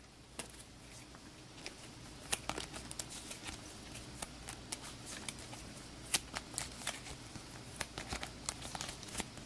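Cards for the This War of Mine board game are shuffled by hand close up, giving soft papery riffles and crisp clicks scattered irregularly over a quiet room.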